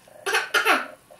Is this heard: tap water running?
no